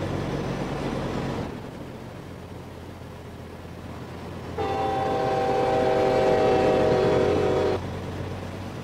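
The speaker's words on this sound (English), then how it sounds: "Hashtag train horn." A loud train horn sounds on a Peterbilt 386 truck with a CAT 3406E engine sound mod in a truck driving video game, blaring as a sustained chord for about three seconds over the steady rumble of the engine and road noise.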